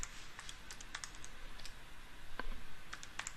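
Fingers type on a computer keyboard in a quick, uneven burst of light clicks. The keystrokes sound close and fairly soft.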